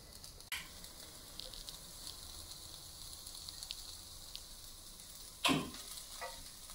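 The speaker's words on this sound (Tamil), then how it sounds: "மசாலா கொஞ்ச நேரம் ஃப்ரை ஆகட்டும்" Fish coated in masala, a vanjaram fillet, sizzles on a grill pan with a steady faint frying hiss, broken by two brief louder bursts of spatter or stirring.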